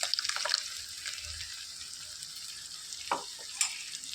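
Ground spinach paste frying in hot oil for a palak gravy curry, a soft sizzle with brief stirring scrapes and a few sharp spatters, fairly quiet and close, no voices.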